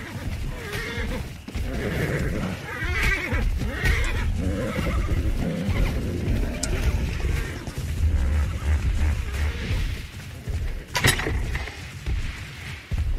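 A horse in the video game Ark: The Lost Island whinnies and snorts amid mechanical clanks and rattling, loud and continuous for several seconds.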